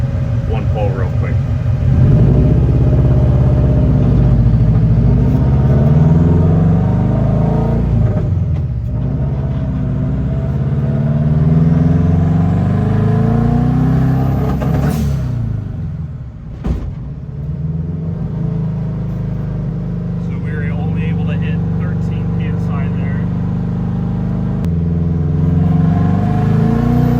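A Volkswagen Beetle engine, still fairly cold, pulls hard with a close, loud rising drone that drops and climbs again between gear changes, under occasional talk.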